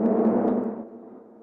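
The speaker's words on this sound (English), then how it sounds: "So that's synth that I've just shown you is creating this texture." A dark, spooky synthesizer texture recorded from a send track, a dense droning wash that is loud at first and then thins and fades over a second and a half, with no voices.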